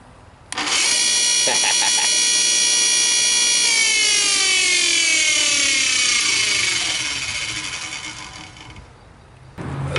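A bench grinder under repair switches on and spins up with a rising whine, runs loud and steady with bright harmonic tones, then begins coasting down as the motor slows toward the end.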